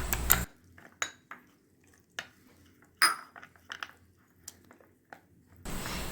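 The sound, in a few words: spoon stirring cornflour and milk in a bowl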